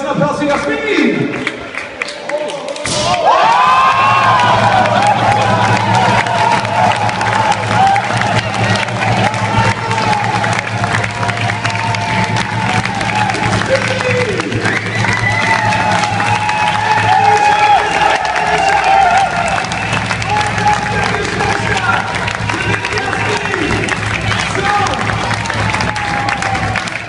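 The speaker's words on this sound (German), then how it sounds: "Und natürlich auch nochmal einen riesen Applaus für Jasmin" A large audience applauds and cheers at a sports event, a sustained dense wash of clapping and crowd noise that swells after a brief quieter start and stays loud throughout.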